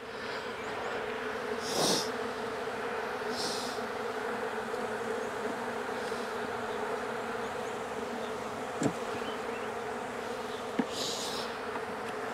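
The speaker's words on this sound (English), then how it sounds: "Lots of bees, almost too many for me to find the queen." Honey bees buzz thickly around a swarm capture box in Jacksonville, Florida, a dense continuous hum with individual bees droning close past now and then.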